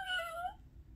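Short cartoon cat meow from Figaro in a Disney Minnie Play-A-Sound book, a single bright, slightly wavering call fading out after half a second.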